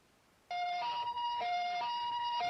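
A two-tone ambulance siren starts abruptly and wails loudly, alternating steadily between a lower and a higher pitch, in Toucheng, Taiwan.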